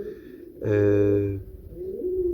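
A pigeon gives a single deep, resonant coo up close, with brief murmuring sounds before and after.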